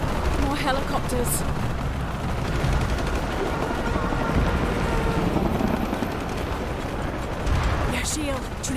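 Helicopters in the video game Shadow of the Tomb Raider, a dense, loud, continuous rotor roar that fills the whole stretch alongside heavy combat noise.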